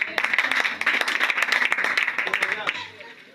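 A church congregation claps and cheers loudly in praise after a deliverance testimony, dense rapid applause with shouting voices mixed in, sustained throughout and thinning slightly at the end.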